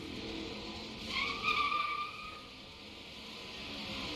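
410 sprint cars starting a race at Cedar Lake speedway, heard as a faint, distant engine roar that swells with a brief high squeal in the middle before settling back to a low drone.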